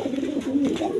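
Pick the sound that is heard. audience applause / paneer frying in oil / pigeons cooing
pigeons cooing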